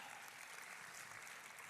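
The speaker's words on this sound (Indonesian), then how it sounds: "berikan tepuk tangan yang paling meriah buat Allah kita" Congregation applauding during a Sunday church service, a steady, dense wash of clapping throughout, fairly faint and even with no break.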